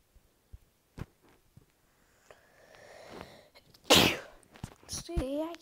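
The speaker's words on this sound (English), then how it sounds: "See, I keep on sneezing." A single sharp, loud sneeze bursts out close by after some faint clicks and breathing, followed by a short voiced sound.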